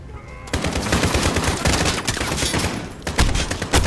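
Machine gun nest firing in the video game Call of Duty: Modern Warfare, loud sustained automatic bursts close up with a brief pause near the end before firing resumes.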